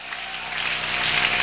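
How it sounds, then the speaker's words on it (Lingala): A church congregation at a wedding blessing applauds together, a dense steady patter of many hands clapping continuously, fairly loud and close, with no talk over it. "Acclame, acclame pour la gloire."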